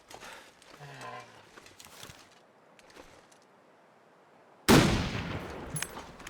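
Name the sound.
rifle shots at a moose in video game The Long Dark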